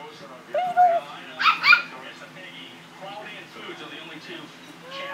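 A poodle lets out a few short yips and whimpery barks up close, in brief clusters near the start and middle, mixed with people talking.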